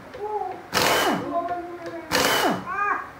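A pneumatic impact wrench hammers at a stubborn bolt on a 2011 Yamaha FZS motorcycle engine in two loud, rattling bursts about a second apart, with faint voices and whistle-like tones in the pauses.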